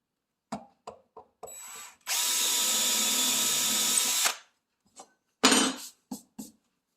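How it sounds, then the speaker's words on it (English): A power drill whirs steadily for about two seconds as it bores a hole for a drawer track using a jig, surrounded by brief clicks and knocks of handling before and after. "line up that little line, drill that one hole"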